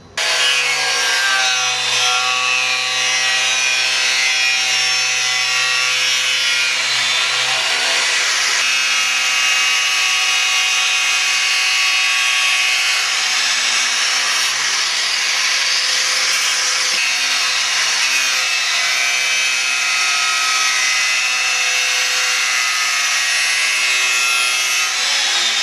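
A small saw trims a wooden wing spar for a Whisper model aircraft, giving a continuous, close, even rasp of blade on wood with a brief pause partway through.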